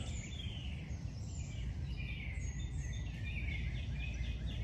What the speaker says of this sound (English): You can hear all the birds chirping and going on.